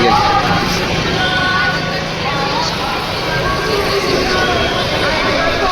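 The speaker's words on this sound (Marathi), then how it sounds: "खूपच गर्दी." A large, dense crowd of pilgrims at the Tukaram Maharaj palkhi procession in Hadapsar makes a steady, loud hubbub of overlapping voices and street noise that never lets up.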